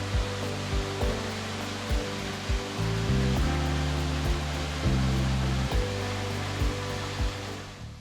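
A waterfall on the Garganta del Capitán hike in Spain gives a steady broad rushing roar, with low rhythmic thumps and a droning tone over the top.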